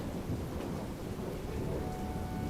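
Steady heavy rain pours down with a low continuous rumble of thunder beneath it, a dense, even wash of sound with no voices.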